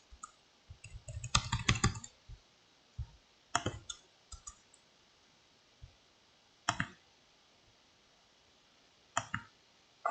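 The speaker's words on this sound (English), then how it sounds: "I'm clicking my buttons here" Sharp mouse-button and keyboard clicks from a computer running Excel, in scattered bursts: a dense cluster early on, then isolated single and double clicks spaced a few seconds apart, close and fairly quiet.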